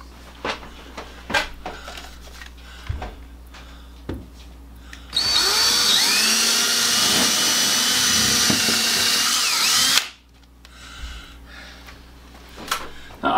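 A power drill bores holes into a wall to mount a quilt rack, a loud steady whine lasting about five seconds, framed by quieter handling clicks and knocks before and after.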